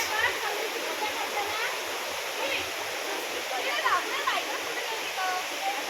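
River water flows over a riverbed in Ratnagiri during a Gauri festival gathering, a steady close rush with splashes, while faint voices sound underneath.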